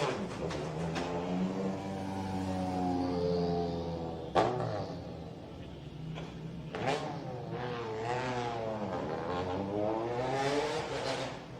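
A Mini Countryman WRC rally car's engine revs at a rally start podium in Antibes, Côte d'Azur, rising and falling in several throttle blips, fairly close, with crowd ambience and a few sharp bangs.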